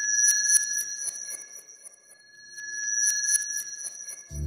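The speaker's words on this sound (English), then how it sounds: "Pitch shifting wind chimes and then running them through a delay unit can help make more of a sparkly metallic wash" Wind chimes pitch-shifted and fed through a delay unit, giving a sparkly metallic wash of sustained bright ringing tones with clustered shimmering strikes that swell, dip and swell again, ending on a low thump.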